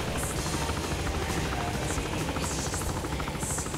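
Helicopter in the video game Saints Row The Third, a loud continuous rotor thrum and buzz that holds steady throughout with no speech.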